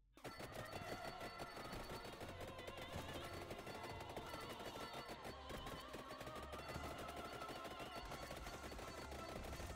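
Weapons fire in the game Vampire Survivors as a rapid, unbroken stream of shots that lasts the whole stretch, loud and relentless like a machine gun.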